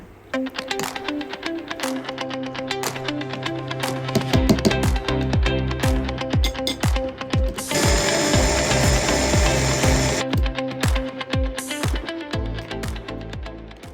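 A mixer grinder grinds mung bean and urad dal into a coarse batter, a loud mechanical whir with clicks and pulses that swells into a dense roar for a couple of seconds.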